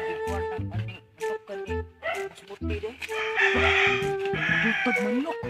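Chickens clucking and a rooster crowing close by, several overlapping calls and crows in quick succession, with people talking in the background.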